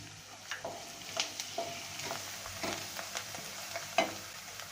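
Chili pakora filling sautéing in a pan with finely chopped coriander, a soft, fairly quiet sizzle under intermittent scrapes and taps of a stirring spoon, close up with no voices.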